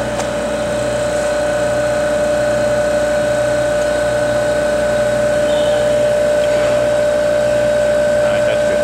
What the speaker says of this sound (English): I'll shut that off and pull vacuum on it.